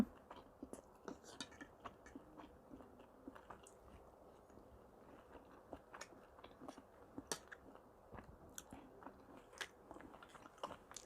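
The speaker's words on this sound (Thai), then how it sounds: "มาเริ่ม กินกันเลย" Quiet, close chewing and crunching as people eat Isan frog dishes, soft repeated bites and mouth sounds in irregular rhythm, no talking.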